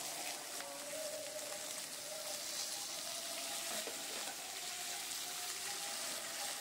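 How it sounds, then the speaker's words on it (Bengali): Pumpkin pieces with crushed green chillies fry in oil in a pan, giving a quiet, steady hiss of sizzling throughout with no voices. "এবার এটা দিয়ে আমি ভাজা ভাজা করব"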